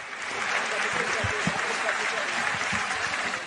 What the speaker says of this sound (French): Forcément plus applaudi que les autres.